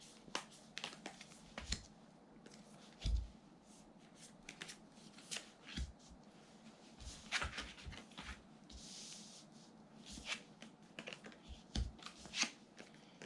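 Tarot cards being shuffled and drawn from a deck, close, soft flicks and slaps of card stock in irregular bursts, with quiet gaps between the handling sounds.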